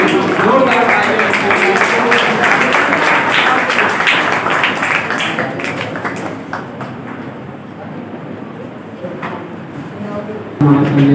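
Audience applause at an Urdu teachers' career guidance program: a dense, lively clapping that fills the room and then slowly thins out and fades, leaving scattered claps.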